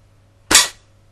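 A single sharp air rifle shot firing a pointed pellet at plate armour, a short crisp crack close by against a quiet background hum.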